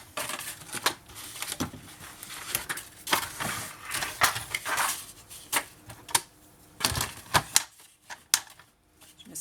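Scissors cut paper for a scrapbooking planner, making a sequence of crisp snips and papery crackles in irregular bursts, close and fairly quiet, with brief pauses and no talking.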